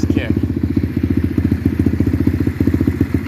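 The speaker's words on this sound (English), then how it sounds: "Fires right up, first kick." A pit bike's small single-cylinder engine just started on the first kick, running with a fast, steady, slightly uneven thumping beat, close and loud.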